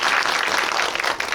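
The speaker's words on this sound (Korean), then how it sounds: "네, 감독님께 박수 한번 부탁드립니다." An audience at a cinematheque screening Q&A for the film Cassiopeia applauds the director, a dense, steady burst of clapping filling the hall for just over a second with no voices over it.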